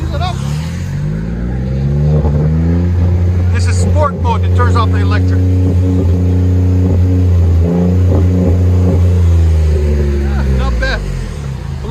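A 2021 Ford F-150 PowerBoost Hybrid with a Black Widow exhaust drives close by, its deep, steady engine drone rising and easing as it moves, loud and sustained with a person talking over it.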